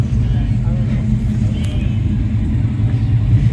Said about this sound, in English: C4 Corvette there. Nice sounding engine there.